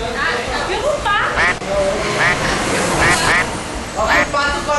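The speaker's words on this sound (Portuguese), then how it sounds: "Filma o pato." A duck quacks repeatedly in short raspy bursts over a noisy outdoor background, with people talking nearby.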